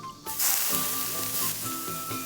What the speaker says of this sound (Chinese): 豆子熟的时候分次泼入之前调好的盐水，之后快速翻炒